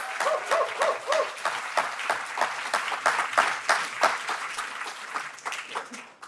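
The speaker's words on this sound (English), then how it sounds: "Can we give them a round of applause, please?" An audience at a poetry gala applauds the evening's poets, with steady, moderately full clapping from a mid-sized crowd that builds briefly and then tapers off.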